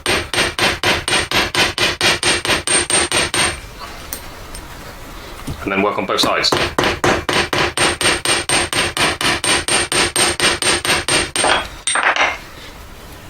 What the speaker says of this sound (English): I'm sort of thinking about how the hammer is hitting the metal.